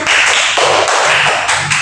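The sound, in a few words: class applause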